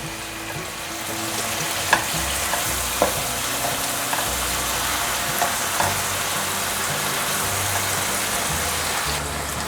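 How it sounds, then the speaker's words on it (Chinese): Steady sizzling of food frying in a hot pan, close and continuous, with a few sharp ticks and pops of utensils. "继续煎，大概煎个10秒，翻过来"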